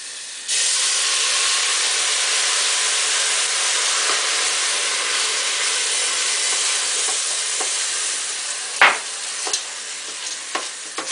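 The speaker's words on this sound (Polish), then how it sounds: "Teraz dolewam wina." Wine is poured into a hot pan of risotto with a sudden loud sizzle that settles into a steady bubbling hiss, with a few spoon scrapes from stirring near the end.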